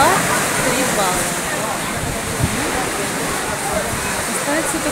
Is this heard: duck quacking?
no